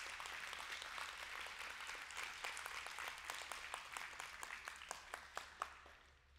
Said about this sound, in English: Would you go ahead and give the Lord a hand clap of praise?